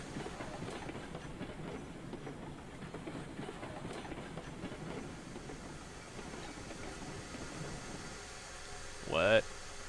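A Climax locomotive rolls along in the video game Railroad Online with a low, steady mechanical rumble and faint rhythmic clatter, while a voice talks quietly over it. A short, sharp squeal comes near the end.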